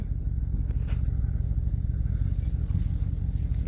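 A RAM 1500 diesel pickup with a BD 4-low kit creeps along in low range, its engine a steady low drone with faint clatter throughout, no talking.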